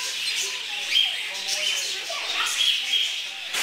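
Birds chirp and tweet at Potter Park Zoo, short bright calls repeating steadily through the clip against a busy background, with people talking nearby.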